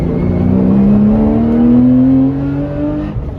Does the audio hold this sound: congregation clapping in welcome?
no